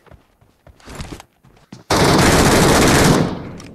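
A machine gun fires a sustained, loud burst in the PUBG Metro Royale video game, preceded by scattered short shots and quieter game sounds, with the rapid fire tailing off at the end.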